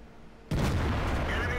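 A single heavy tank cannon shot in World of Tanks, a sudden loud boom that breaks in after a quieter stretch and leaves a long, dense rumbling tail behind it.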